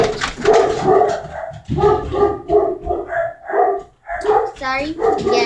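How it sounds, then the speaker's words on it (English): Dogs barking loudly in quick bursts, close by, interleaved with continuous talking over the barks. "Sorry again, dogs."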